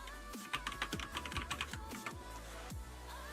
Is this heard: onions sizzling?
no